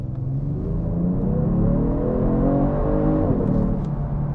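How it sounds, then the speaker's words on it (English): A 2022 Genesis G70 car accelerates under a little throttle. A smooth, moderately loud engine hum builds and rises in pitch over a few seconds, heard from inside the cabin without talking. "Let's just give it a little bit of gas."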